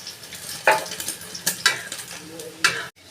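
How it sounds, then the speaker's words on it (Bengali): Egg omelette folded over and frying on its second side in a pan, giving a steady sizzle with a few sharp spatula scrapes and clinks close by. "এইভাবে মুড়ে আর একটা পিঠ আমি ভেজে নিচ্ছি।"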